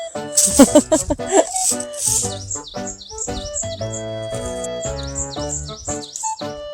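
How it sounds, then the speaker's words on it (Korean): Birds chirp and sing outdoors on an early morning beside cherry blossom trees, with dense repeated bright calls and trills close by, interleaved with a rattling call and a few human murmurs early on. "새소리 진짜 듣기 좋다"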